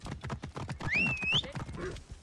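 A horse gallops across open ground in Assassin's Creed Origins, with rapid rhythmic hoofbeats running through the whole stretch and a brief whinny partway in.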